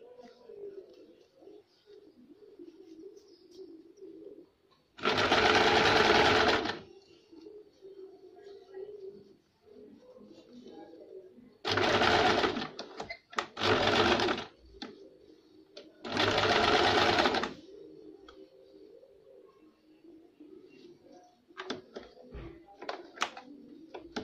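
A sewing machine runs in three or four loud bursts while stitching the folded side hem of a baby frock, over a steady low background with pigeons cooing faintly throughout.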